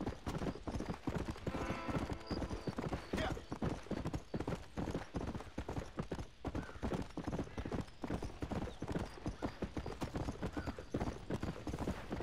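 Horse hooves clip-clop in a steady, continuous rhythm throughout a ride in Red Dead Redemption, close and fairly loud, with an occasional faint whinny mixed in.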